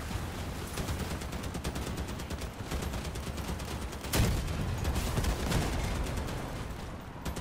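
An autocannon in Crossout fires in rapid, dense bursts, a loud close rattle of shots that runs nearly nonstop, with a heavier boom partway through.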